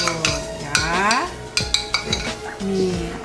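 A spoon scrapes and clinks around a cooking pan while chili and cornstarch are stirred, a series of short metallic strokes over a faint background hum, close by.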